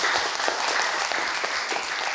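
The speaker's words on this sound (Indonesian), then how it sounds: "tepuk tangan buat Ibu Yulis" Studio audience clapping at an Islamic talk show, a steady even patter of many hands throughout, moderately close and unbroken.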